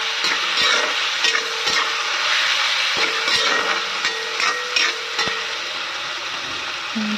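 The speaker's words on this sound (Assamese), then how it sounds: "এইফালে মেৰিনেট কৰা মাংসখিনি ইয়াতে মই দি দিম" Marinated meat fries in a pan on a home kitchen stove, a steady close sizzle broken by sharp clinks and scrapes of stirring, with no talking.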